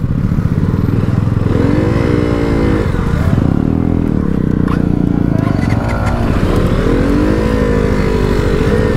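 A fairing motorcycle labours along a rough off-road trail, its engine loud and close with a continuous drone that rises and falls as the throttle changes, with rattling over bumpy ground.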